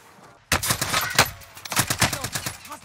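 Gunfire in Call of Duty Warzone with an EM2 rifle class, sudden rapid bursts of loud near shots cracking in quick succession after a brief quiet opening.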